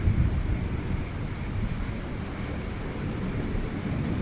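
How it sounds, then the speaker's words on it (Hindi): Heavy rain falling under dark clouds, a loud continuous roar with deep low rumbling of thunder beneath it, steady throughout with no voices. "आसमान में घने काले बादल छा जाते हैं और थोड़ी ही देर में जोरदार बारिश शुरू हो जाती है"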